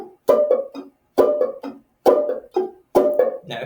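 Clawhammer banjo played in rhythm, a bass note then a snare-like brush with a quick drop-thumb fifth-string note between, repeating in four clear, close groups with short gaps and no talking.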